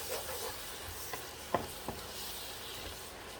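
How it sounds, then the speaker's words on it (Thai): Mushrooms stir-fry in oil over high heat, a quiet steady sizzle broken by a few sharp scraping clicks as the pan is stirred. "เพราะว่าการผัดเราต้องใช้ไฟแรงเนาะ การใช้ไฟแรงเนี่ยมันทำให้อาหารเนี่ยอร่อย"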